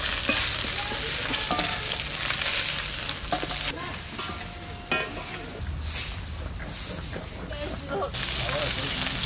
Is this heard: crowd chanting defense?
no